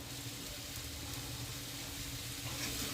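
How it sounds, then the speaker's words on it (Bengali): Chopped coriander being stirred into vegetables frying in a pan for veg biryani gives a quiet, continuous sizzle without pauses. "ধনেপাতা কুচিটা সব ভাজা সবজিগুলোর সাথে মিশিয়ে দিচ্ছি"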